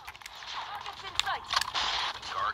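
PP19 Bizon submachine gun fire in a video game, several short sharp bursts and single cracks scattered through the clip at moderate loudness.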